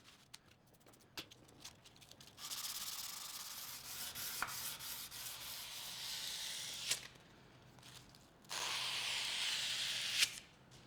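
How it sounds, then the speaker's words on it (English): A wooden screwdriver handle is hand sanded with 180 grit sandpaper, giving two long, steady rasping strokes of close friction with brief quieter pauses and small knocks between them. "I'll do some hand sanding. I did the whole thing to finish with 180 grit."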